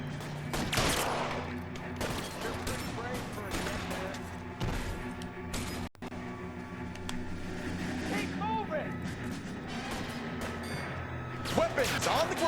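Gunfire in the 1940s Los Angeles crime game L.A. Noire, with repeated shots cracking through a street shootout while someone talks over the action.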